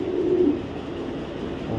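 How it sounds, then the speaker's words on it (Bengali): A choco racer male pigeon coos close by, a low soft rolling call that swells early and then settles, with faint background hum. "এটা চকো রেসার নর কবুতর"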